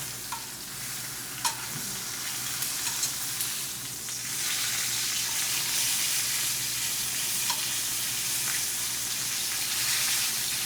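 Steak searing in a hot pan on a stovetop gives a steady, close sizzle and crackle throughout, with a few sharp pops near the start and a slight swell in intensity midway.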